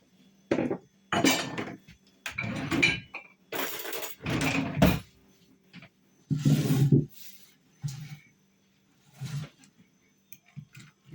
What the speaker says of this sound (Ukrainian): тепер все гарно вимішую